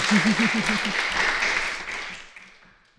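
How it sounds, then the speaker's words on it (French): Applause from an audience at a podcast event swells at first and then fades to quiet, while a low voice murmurs briefly at the start. "Applaudissements."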